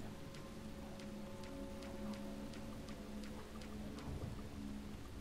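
Rain in the video game Deadly Premonition makes a faint, steady patter with regular ticking drips over a low hum, and no one speaks.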